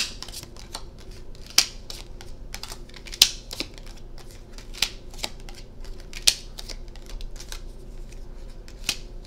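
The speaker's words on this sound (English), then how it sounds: "So let's lay these cards down." Tarot cards being laid down one by one on a table, giving a series of soft, crisp slaps and flicks at an irregular pace, close up and fairly quiet, with no talking.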